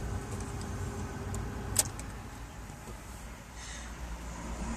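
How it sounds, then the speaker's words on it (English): A car goes by behind someone standing outdoors in a severe-winter location, a steady broad road rumble that swells gently and stays moderately loud for the whole stretch, with a brief sharp click partway through. "That's a car behind me."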